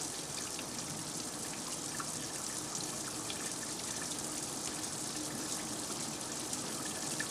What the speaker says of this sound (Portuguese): Depois de terem sido encharcados por um jato de água pulverizada durante 1 hora